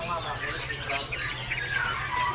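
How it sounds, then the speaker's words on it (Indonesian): Several panca warna songbirds at a bird market in Jakarta chirp and twitter in quick overlapping calls, fairly close, over a steady background hum. "Udah pada rajin bunyi ya untuk burung panca warnanya."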